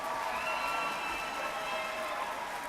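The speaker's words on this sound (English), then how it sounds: "Let's give these students a round of applause." An audience claps at a high school graduation ceremony, a dense, steady patter of many hands heard from a distance, fairly quiet, with no voices.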